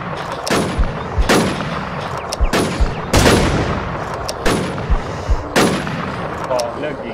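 Sharp gunshots in the survival shooter Infestation, about six loud cracks at uneven intervals with short bursts of smaller shots between them, and faint voices underneath.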